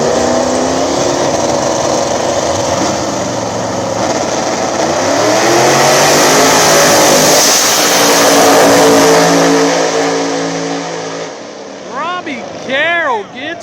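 Drag racing at a small tire no prep bracket event, with a turbo Fox Body bracket car launching against another car. A loud, sustained engine roar and rising revs fill the track, with an announcer talking over it.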